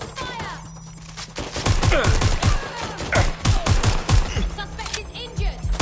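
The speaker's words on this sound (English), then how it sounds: "Taking fire." Rapid gunfire in GTA, bursts of sharp shots crackling close and loud over a steady low hum, with an alarm-like tone and speech partly under the shooting.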